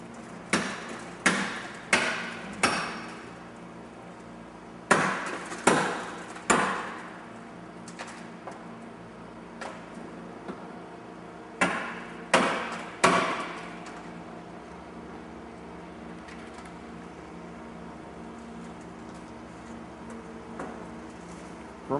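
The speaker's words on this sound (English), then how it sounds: "They're going to come in and do a B-post tear. They're going to do a complete side removal of the vehicle." Rescue crew tearing the B-post and removing the whole side of a vehicle: sharp, loud metallic bangs and cracks in clustered bursts, each ringing briefly, followed by quieter rattling and clatter near the end.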